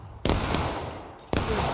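Musket fire in the Civil War video game War of Rights: two sharp reports about a second apart, the first followed by a rolling echo, heard over quieter battle noise.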